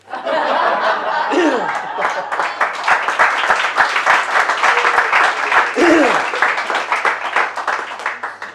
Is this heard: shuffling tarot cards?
no